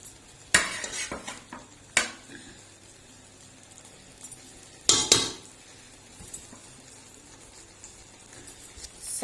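A spoon stirs chicken biryani in a cooking pot, making a few distinct scraping, clinking strokes against the metal with quiet pauses between them.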